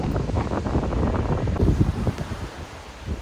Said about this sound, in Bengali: এত বাতাস দিচ্ছে, কথা হয়তো শোনাও যাবে না ভালো করে ভিডিওতে